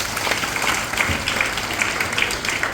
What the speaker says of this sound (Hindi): जोरदार ताली पर वाले के लिए।